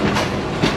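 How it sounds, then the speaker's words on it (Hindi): The Peshawar Rehman Baba Express passenger train passes close by with a loud, continuous rumble and rhythmic clickety-clack of wheels on rail joints, heard alone. "पेशावर रहमान बाबा एक्सप्रेस है जी। 47 आ रही है बोल।"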